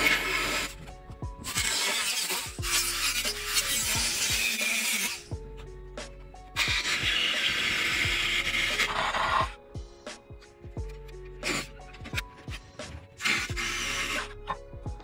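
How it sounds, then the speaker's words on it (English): An angle grinder with a flat wheel grinding down spot welds on a Honda Integra front end, loud close bursts of harsh whining grinding broken by pauses and shorter stuttering passes. "I'm just going to take a grinder with a flat wheel and grind it down till they pop"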